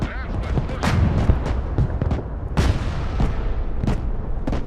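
A unit firing its weapon in the video game Broken Arrow, a string of sharp booming gunshots at irregular intervals over a rumbling battlefield background, with some talk in between.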